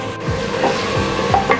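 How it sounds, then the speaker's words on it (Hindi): Potatoes and chicken for an aloo chicken curry frying and being stirred in a pan, a steady sizzle with recurring scrapes of the spoon, close and alone. "अब इन्हें भी इसी तरह हम 2 से 3 मिनट फ्राई कर लेंगे"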